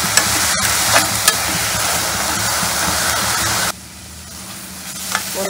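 Cinnamon, cloves and cardamom fry with onions in oil for a Chettinad country-chicken curry, a loud, close, bubbling sizzle with stirring that abruptly drops to a softer hiss partway through, no talking.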